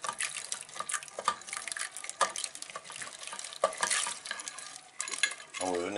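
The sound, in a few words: stirring split pea chorba soup in a pot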